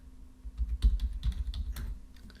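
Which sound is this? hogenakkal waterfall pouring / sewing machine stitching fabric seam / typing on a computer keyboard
typing on a computer keyboard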